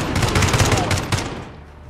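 Rapid automatic gunfire in Call of Duty crackles in quick bursts, loud and close, then tails off into fading echo over the last half second.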